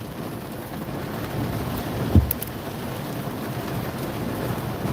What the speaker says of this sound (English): Nah, it's raining.